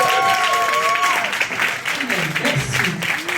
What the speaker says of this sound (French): S'il vous plaît, applaudissez-moi